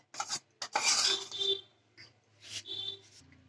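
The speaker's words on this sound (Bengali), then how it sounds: "এবার আমি সবগুলো একসঙ্গে মিক্সড করে নিচ্ছি" A spoon mixing tomato sauce, vinegar, pepper, cornflour and flour in a bowl for veg manchurian, several short scraping and clinking strokes close by, separated by brief pauses.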